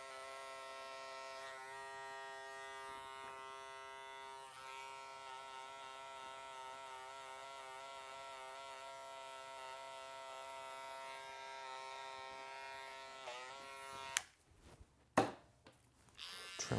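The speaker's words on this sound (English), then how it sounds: "Trimmer time." An electric hair trimmer buzzes steadily and close in a barber class, a constant tonal hum that runs for most of the clip before clicking off, followed by a few handling knocks.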